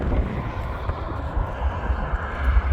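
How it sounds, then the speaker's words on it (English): A low, rough jet engine rumble from a Southwest Boeing 737 using reverse thrust after landing at Spokane International Airport swells unevenly at a distance, dominated by deep bass with a faint hiss above. "Now they're gonna go into reverse thrust."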